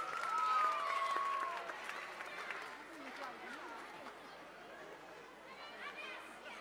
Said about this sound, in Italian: Un forte applauso,